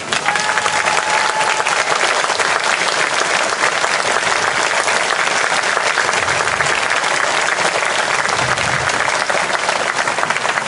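Loud, continuous applause from a theatre audience at the final of Brunehaut, la plume ou le glaive, with thick, unbroken clapping that holds steady throughout.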